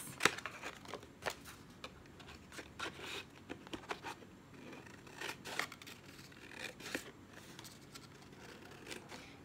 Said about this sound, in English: I'm just gonna cut the front part of the box